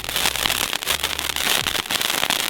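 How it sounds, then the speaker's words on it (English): Electro firework with a chrysanthemum crackle effect, a dense, close, continuous fizz of rapid crackling pops like static, loud and sustained with a few deeper thumps underneath. "This one actually has like a TV static, like chrysanthemum crackle."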